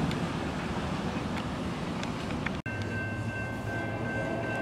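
A CSX freight train rolls past on the second track at Sharpsburg with a steady, fairly distant rumble of wheels and cars. There is a sharp dropout partway through, followed by a faint high tone.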